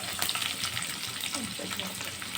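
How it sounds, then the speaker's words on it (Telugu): Chillies and onions with mustard seeds and curry leaves sautéing in a pan for drumstick-leaf dal, a dense, bright, close sizzle and hiss that holds steady throughout. "మిర్చి ఆనియన్స్ బాగా మగ్గే వరకు అలానే ఉంచుకోవాలి"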